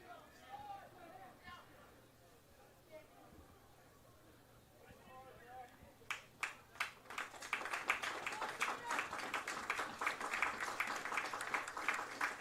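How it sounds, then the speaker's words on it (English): Stadium crowd applauding for soccer player Jonathan Molina during a Swarthmore men's college soccer match against Gettysburg, swelling from quiet murmur into sustained, fairly distant clapping and cheering. "Gets a well-deserved round of applause."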